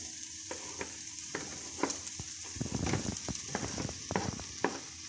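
Diced bell peppers and chicken pieces fry in a hot pan, giving a continuous sizzle broken by frequent soft clicks and scrapes as the food is stirred.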